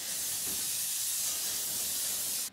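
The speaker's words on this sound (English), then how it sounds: "I'm going to put a bit of hairspray." An aerosol can of hairspray sprays onto hair in one continuous, close, loud hiss that lasts a couple of seconds before cutting off.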